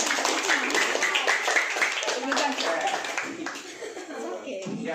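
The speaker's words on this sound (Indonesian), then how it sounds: "tepuk tangan buat Pak Ais." Classroom applause fills the room, a dense steady patter of many hands clapping throughout, with chatter and light laughter from students mixed in.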